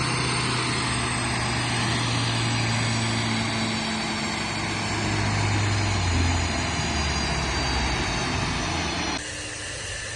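A tuned twin-turbo C7 Z06 Corvette engine runs loud and close with a continuous raspy drone, its pitch shifting slightly as it idles and revs, before dropping a little in level near the end.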